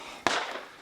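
A single sharp Dragunov sniper rifle shot at a shooting range in Prague, a loud sudden crack with a short decaying tail, heard alone.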